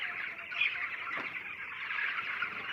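Chickens on a poultry farm fill the air with a dense, continuous chorus of clucking and chirping, a steady hum of many birds heard at a moderate distance with no talk.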